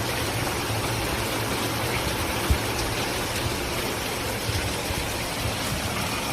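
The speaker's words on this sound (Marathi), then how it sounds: "एवढा खतरनाक पाऊस झालेला आहे" Torrential downpour in Ahilyanagar floods a courtyard, a dense, steady roar of heavy rain and gushing runoff that stays loud and unbroken throughout, with no voices.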